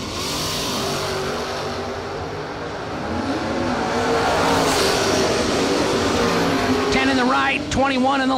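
Drag racing cars, including a Mustang, launching at a bracket racing event: loud sustained engine roar rising and holding, under an announcer's voice, with a sharp revving whine near the end.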